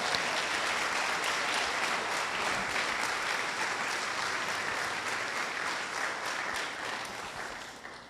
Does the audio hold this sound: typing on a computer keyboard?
no